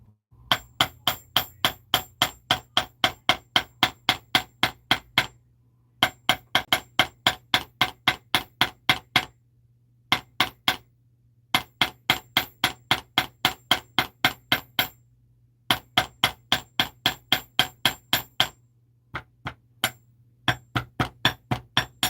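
Rapid, ringing hammer blows strike copper on a metal anvil in bursts of a dozen or so even strikes, separated by short pauses, while making copper hoop earrings.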